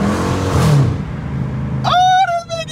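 A Dodge Challenger R/T engine revs hard as its bald tires spin, a loud close roar rising then dropping, with a voice shouting excitedly over it near the end.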